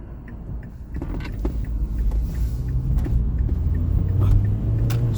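A 2014 Mazda 2 engine revs hard while the car gets up to speed on a local road, a low rising drone and rumble inside the cabin building steadily louder, with a few faint rattles.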